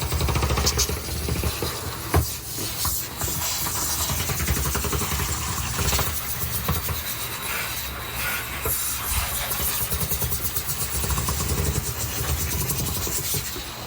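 A pressure washer jet spraying hurricane shutters gives a loud, continuous broadband hiss and roar, close and unbroken for the whole stretch, with no talking.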